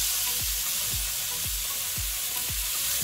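Chicken breast fries in a hot pan with a loud, continuous sizzling hiss, close by, while a low thump repeats steadily about twice a second underneath.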